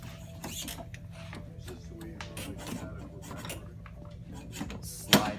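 A brake rotor and brake being fitted onto the axle of an Italkart kart chassis, with sparse light metallic clicks, scrapes and rattles, ending in one sharper clank.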